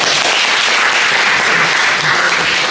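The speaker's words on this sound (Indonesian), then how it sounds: "Tepuk tangan bagi Tuhan." A congregation at an evening prayer service bursts into loud, close, dense applause, an unbroken crackle of many hands clapping at once for the whole short stretch, with no voices over it.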